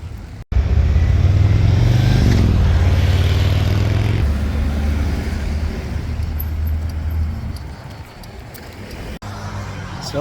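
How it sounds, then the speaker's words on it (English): Busy Livorno street traffic with scooters and small cars: engines rumble close by as vehicles pass and accelerate, a steady loud roadway hum that eases off and then swells again. "It is hustling, it's bustling, lots of bikes and scooters, lots of little tiny cars, people walking all over the place."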